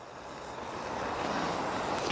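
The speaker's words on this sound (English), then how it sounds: "It's just super windy today." Strong wind rushes and buffets steadily, a continuous roaring noise that grows slightly louder toward the end.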